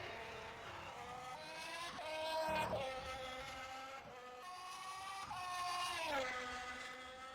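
Formula 1 car on an onboard qualifying lap at the 2023 British Grand Prix, its engine note climbing and dropping through gear changes, with a high whine that rises and falls as the car brakes and accelerates, loud and continuous.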